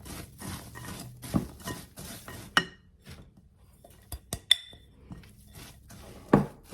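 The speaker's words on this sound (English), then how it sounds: "I'm going to add about 1/2 of it, give it a good mix, and then add the other 1/2." Almonds tossed with cinnamon sugar in a bowl, giving irregular clinks, scrapes and rattles of nuts against the bowl and utensil, with brief quiet gaps between bursts of stirring.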